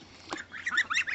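Five-week-old Brown Chinese goose goslings honk close by, a short burst of overlapping high-pitched calls after a brief tap.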